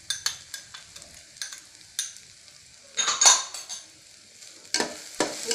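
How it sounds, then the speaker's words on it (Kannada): Crushed garlic sizzles in an onion and ginger tempering for a green pea usli while a spoon stirs it, with repeated scraping clinks against the pan over a soft, close frying crackle. "ಬೆಳ್ಳುಳ್ಳಿ ಹಾಕ್ತಾ ಇದ್ದೀನಿ ಜಜ್ಜಿರೋದು."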